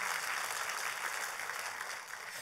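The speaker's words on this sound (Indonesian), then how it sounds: "kalau mau tepuk tangan, tepuk tangan" Sustained crowd applause at a church service, many hands clapping steadily at a moderate, somewhat distant level, with no speech over it.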